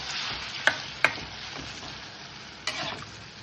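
Chard greens cooking in a pan, a steady low sizzle and bubble broken by a few sharp clicks of a utensil against the pan, close and alone without talk.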